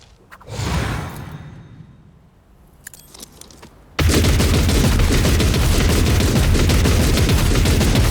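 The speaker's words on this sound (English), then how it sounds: "So many bullets." Dense, continuous gunfire barrage in the sci-fi video game Warhammer 40K Rogue Trader, erupting suddenly and loudly after a quieter stretch of whooshes and scattered impacts, then holding as a sustained roar of rapid shots.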